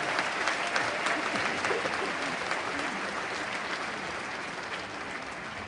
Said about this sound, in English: applause and welcome.